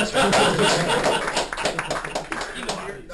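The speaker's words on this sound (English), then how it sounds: "Let's give Dina a round of applause, everybody." Scattered applause with some chuckles from a small audience during a beginner prepper talk on dehydrators and homemade MREs, a dense burst of claps fading over about three seconds.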